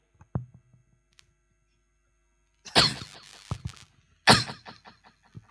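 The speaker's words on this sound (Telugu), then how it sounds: "ఏంది ఆడ దగ్గు ఏంది?" A person coughs in a few loud, harsh bursts, one short cough early on and then two clustered rough outbursts with breathy gaps, heard close by in a quiet indoor skit setting.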